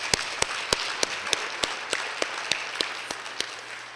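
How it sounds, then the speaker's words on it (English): Applause from an audience at a city high school sports awards ceremony: sharp claps stand out over a dense, steady wash of clapping that fades slightly toward the end. "And I think that deserves some applause."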